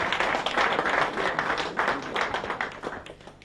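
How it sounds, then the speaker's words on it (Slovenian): A studio audience at a football goal-of-the-year awards show applauds a national team player, with brisk, even clapping that holds steady throughout at moderate loudness. "Marinko, velik aplavz za našega reprezentanta."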